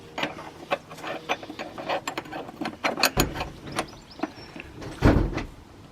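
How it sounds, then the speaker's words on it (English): Wrench tightening a brake hose fitting on a BMW, a run of quick metallic ratcheting clicks and clanks close by, with a couple of louder knocks toward the end and no speech. "and then obviously final tighten it down with your wrench"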